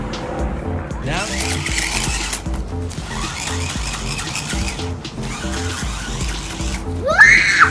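Remote control stunt car racing around with repeated tire squeals and skids over a steady motor whine, loud and close, with children's voices talking and calling out at times.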